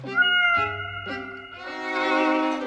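A cat meows several times in a row, loud and close, with long drawn-out harmonic cries, the last one rising and stretching out; no talking over it.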